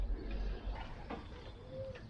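Soft pigeon cooing, low and murmuring, with faint rustling in the background.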